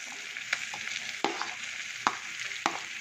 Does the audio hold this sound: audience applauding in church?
no